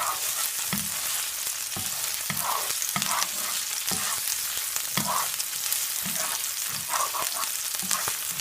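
Ginger frying in a pan alongside spring onions, a steady close sizzle with brief scraping stir strokes at irregular intervals, no talking.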